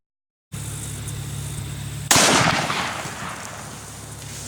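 A single sharp, very loud .500 Magnum revolver shot fired outdoors into milk jugs, with a quick echoing decay after a quiet lead-in.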